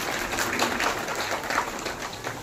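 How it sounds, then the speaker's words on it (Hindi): Applause from parents honouring teachers at a school victory celebration and flag unveiling ceremony, a steady crowd clapping throughout with a dense, continuous texture and no break. "मैं अभिभावकों से एक रिक्वेस्ट करूंगा कि जोरदार तालियों से जो गुरुजन हैं उनको भी सम्मान दें"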